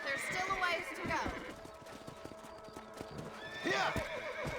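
A horse in the Red Dead Redemption video game neighs and gallops with rapid hoofbeats, a loud whinny opening the passage and another near the end, with game sounds mixed in.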